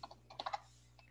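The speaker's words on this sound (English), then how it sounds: "I'll wait for Oleg to stop typing and then I'll click accept." Brief burst of light keystrokes on a computer keyboard during an online meeting, a quick cluster of soft clicks followed by one more tap, faint and distant with no talking over it.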